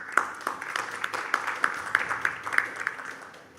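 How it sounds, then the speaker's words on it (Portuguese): Sparse, fairly quiet audience applause at an international forum on industrial hemp, a thin patter of individual hand claps lasting a few seconds. "Uma salva de palmas."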